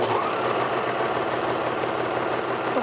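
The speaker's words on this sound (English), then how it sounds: "I'm just going to serge along the bottom and the top edge to start." A serger overlocker stitches along the bottom and top edges of a cloth mask, giving a steady, close mechanical whir with a fast rhythmic chatter that runs unbroken throughout.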